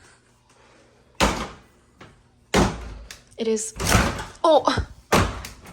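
A hard-to-shut apartment door thuds and bangs several times in a college apartment while a person talks between the knocks.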